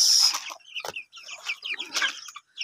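Native chickens clucking in short, scattered bursts, with a louder squawk at the start and irregular calls overlapping close by.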